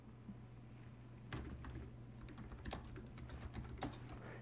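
Typing on a computer keyboard to write a message, a run of uneven key clicks starting after about a second over a steady low hum, close and fairly quiet.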